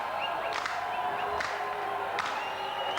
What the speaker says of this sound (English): the Castleford fans are jeering, the French fans are slow and clapping